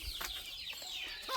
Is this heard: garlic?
no